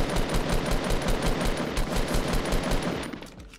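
Rapid automatic gunfire from a weapon in Fortnite Battle Royale, a dense even stream of sharp close shots that carries on without pause for about three seconds and then trails off abruptly.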